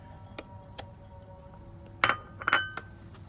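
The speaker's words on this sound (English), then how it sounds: "now we just add in our cream cheese or our mascarpone and we mix it really well again" Utensil clinking against a bowl while mascarpone is mixed for tiramisu: quiet, scattered taps and a few louder metallic-glassy clinks near the end, with no talk.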